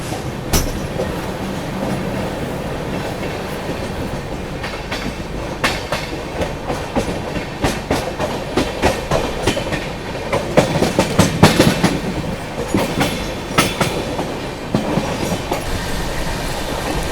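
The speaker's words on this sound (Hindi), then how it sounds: "गाड़ी का डिपार्चर होता हुआ दादर से" The 22159 Chennai Express rolls out of Dadar station in Mumbai with a steady, loud rumble of rail wagons, rhythmic wheel clatter and sharper clacks that build midway through.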